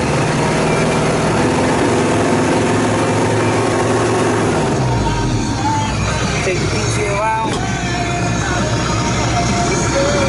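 A 2009 Kubota L4740 compact tractor with a cab and loader runs its engine, giving a loud, steady, low rumble. The pitch shifts partway through and the drone continues to the end.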